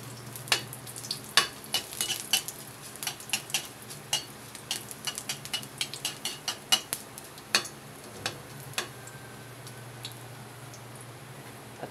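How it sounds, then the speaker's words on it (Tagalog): Ginger sautéing in a pan, with a low steady sizzle beneath repeated sharp scrapes and taps of a spatula stirring at an uneven rhythm, close by and with no talking. "Unahin ko po ang luya pag gisa."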